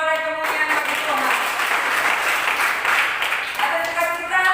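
A church congregation cheering and applauding together, a sustained wash of clapping and shouting that fills the room, with a voice speaking just before and after it.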